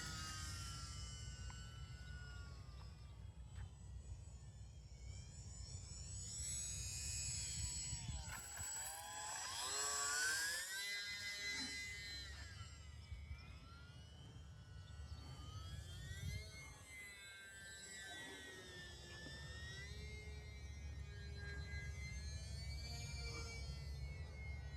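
A 500mm RC warbird model airplane, a Volantex Corsair or Spitfire, whines overhead with a steady motor drone that rises and falls in pitch as it passes, loudest near the middle, continuous throughout.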